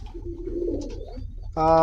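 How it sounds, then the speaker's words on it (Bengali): American Saint pigeons coo softly in a low murmur, then a louder tonal buzzing sound cuts in near the end. "এই পাশে আমি কিছু বিউটি কবুতর লালন পালন করি"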